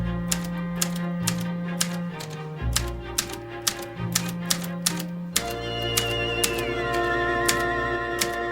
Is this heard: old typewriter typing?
yes